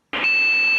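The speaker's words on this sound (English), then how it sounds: "One long beep and one short beep, motherboard error" A steady electronic beep tone from a computer motherboard's BIOS error beep code, loud and continuous, starting abruptly and holding without a break.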